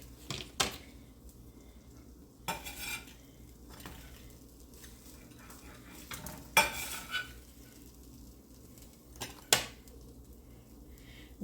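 A homemade pizza gets cut in a quiet kitchen, with a few sharp scraping and clacking strokes of the cutter against the pan, spaced out over a low background hum.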